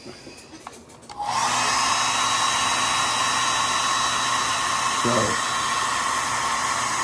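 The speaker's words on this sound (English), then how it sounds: "I'm letting my hair dryer aim upward towards the bird" A hair dryer switches on and blows steadily with a loud, continuous whooshing hum, a brief word spoken near the start.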